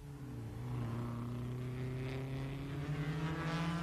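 Lancia Ferrari racing cars at the 1957 German Grand Prix roar through the Carousel, a loud, sustained engine drone with rising pitch held steady close by, no voices over it.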